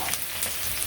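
Food frying in a pan in a village kitchen, a steady soft crackling sizzle with faint scattered pops, alone and fairly quiet.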